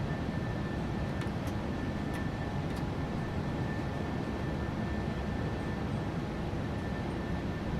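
Boeing 737-800 airliner engines in flight in the PMDG flight simulator, a constant broad roar and rushing hiss with a faint steady tone, even and unbroken throughout.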